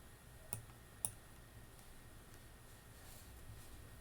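Computer mouse clicks while choosing Paste Special options in Excel 2016, two quick, faint, close clicks early on, then near silence over a low background hiss.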